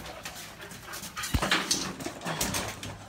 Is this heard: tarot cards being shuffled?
no